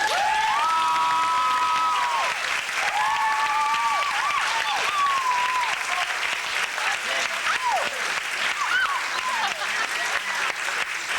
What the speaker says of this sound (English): listen to the applause at the end of the song.